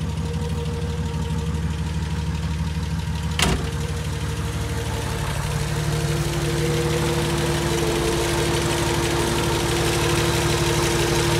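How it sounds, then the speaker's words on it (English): An old Dagenham-built car idles steadily after a choke start, heard under the open bonnet: a close, even, throbbing engine drone with a faint knocking rhythm and one sharp click early on, no talk. "Let's pop outside, and you can see what it looks like with it running under the bonnet."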